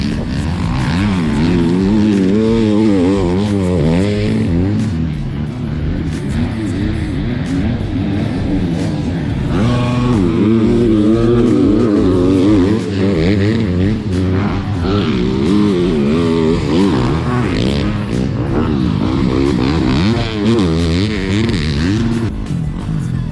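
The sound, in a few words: motocross motorcycles riding on a track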